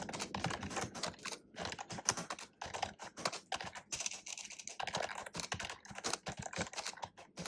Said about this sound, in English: the sound and the ergonomic design, the keystroke press are very soothing to both the fingers and the ears